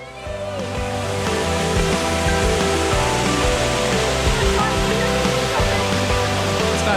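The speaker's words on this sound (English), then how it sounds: "the most incredible waterfall" A large waterfall at the end of a steep forest hike: a steady, loud, broadband rush of falling water, continuous and unbroken throughout, with no voices.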